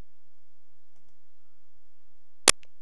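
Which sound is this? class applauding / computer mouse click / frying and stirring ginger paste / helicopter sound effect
computer mouse click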